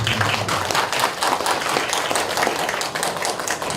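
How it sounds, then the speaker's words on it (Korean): Applause from the audience at a Korean academic conference's closing panel discussion, thanking the session moderator: a dense, steady wash of many hands clapping for the whole stretch, moderately loud and close, with no talk over it. "박수 한번 드리고"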